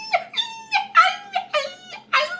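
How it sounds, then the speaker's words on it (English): A small dog whimpers and whines in a series of six high, wavering cries, close and fairly loud, with short pauses between them. "you can hear the dog"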